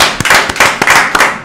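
An audience in a radio studio claps loudly, a close burst of sharp, slightly irregular hand claps at a quick pace, with no talking over it.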